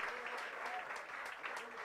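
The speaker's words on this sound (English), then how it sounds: "A huge round of applause for all the sporty trio of a flying jet" Audience applause for the sporty trio of Tiger Shroff, Jacqueline and Nathan Jones at a Swachh Bharat campaign film event, a steady wash of clapping over the whole stretch with a faint voice underneath.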